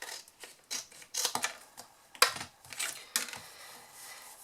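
Scissors cut through card in a quiet craft setting, a handful of short crisp snips and small clicks spaced irregularly, close and faint, with no talking.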